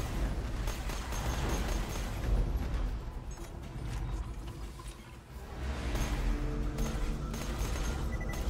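Enemy gunfire in the Borderlands video game crackles in dense, ragged bursts amid booms and mechanical clatter, keeping up a steady barrage throughout.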